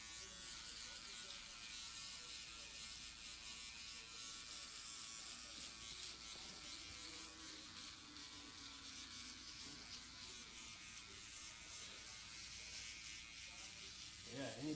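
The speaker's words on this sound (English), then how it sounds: "Foil shaver." An electric foil shaver buzzes steadily and evenly while someone's neck is shaved, a close, continuous hum that holds without pause.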